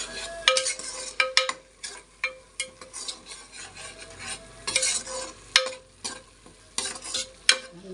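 Curry leaves and coriander frying in a hot pan as a spoon stirs them, with a continuous sizzle under repeated sharp scraping strokes of metal on the pan, close and fairly loud.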